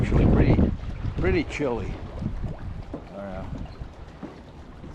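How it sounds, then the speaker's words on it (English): A northwesterly spring wind at Barr Lake, Colorado, buffets the microphone as a low, rough rumble that is strongest at the start and then eases, under someone talking. "it's the wind is blowing. It's like northwesterly wind"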